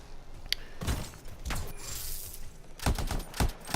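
Gunfire from the video game Anthem: short bursts of tap-fired shots and impacts, with a burst early on and a denser cluster of sharp cracks near the end, over a steady hum of game noise.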